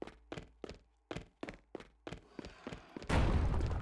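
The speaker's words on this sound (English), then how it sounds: "that's the sound of poppin' monsters." Monsters being popped in the video game Outcasts of Dungeon give a series of about ten soft, evenly spaced thumps, followed by a louder noisy burst at the end.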